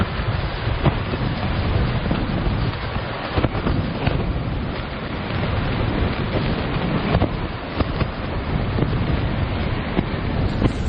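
Strong, continuous wind buffets a winter wild camp in the Lake District near Glenridding, roaring loudly and steadily into the microphone with gusty rumble throughout and no pause.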